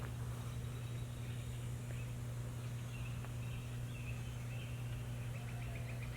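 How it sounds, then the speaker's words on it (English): Birds call and chirp faintly outdoors at a camp, with scattered high tweets over a steady low hum and a quiet ambient background; no one speaks. "Birds and a rooster is crowing."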